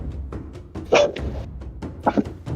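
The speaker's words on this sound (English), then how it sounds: "that dog is barking" A dog barking in a tabletop-session soundtrack: a few short, loud barks stand out near the one-second and two-second marks, over a low murmuring background.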